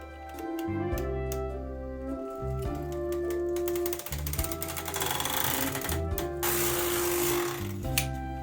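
A vintage knitting machine works rows of a long wool sock, its carriage producing rhythmic mechanical rattling passes with brief pauses between rows, close and clear.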